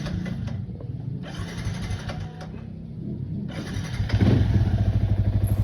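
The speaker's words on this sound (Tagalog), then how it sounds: "Paandarin ko na yung ating makina." A Yamaha Sniper 155 fuel-injected motorcycle engine, freshly cleaned, sputters through uneven cranking bursts and then catches into a loud, rapid, steady idle putter up close.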